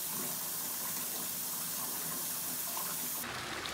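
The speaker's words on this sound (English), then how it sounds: "I filled up the sink with water and threw them in there so that they can just sort of soak" Water runs steadily from a kitchen faucet into a sink, filling it to soak dishes; a continuous close gush that stays fairly constant, then turns brighter and hissier near the end, with no voices.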